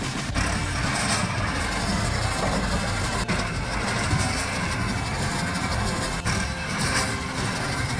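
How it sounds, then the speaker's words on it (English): A remote-controlled Komatsu 575 Superdozer bulldozer works with a steady, loud, low engine drone, joined by occasional clanks and knocks, continuous throughout with no talking. "Seeing the remote-controlled Komatsu 575 Superdozer at work is like enjoying the excitement from a safe distance"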